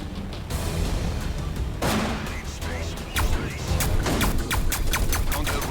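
Spaceship strafing gunfire from the space combat game Everspace 2, a dense run of rapid impulsive shots that thickens in the second half, over a steady rumbling engine and effects bed.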